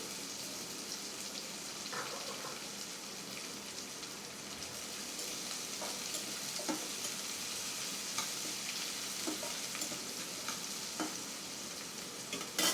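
Quiet, even crackle of onions frying in a pan, a soft continuous sizzle with occasional faint stirring ticks, no voices.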